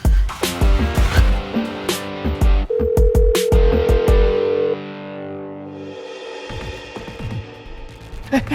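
A phone call rings out over a handset loudspeaker, a steady electronic ringback tone lasting about two seconds amid distorted music and effects.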